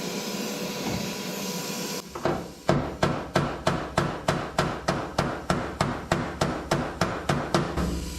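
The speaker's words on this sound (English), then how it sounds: "I like to keep me a body hammer" Steady, evenly spaced metallic taps of a body hammer on a Datsun's sheet metal during welding repairs, about two per second, loud and close, with a sharp ring on each strike.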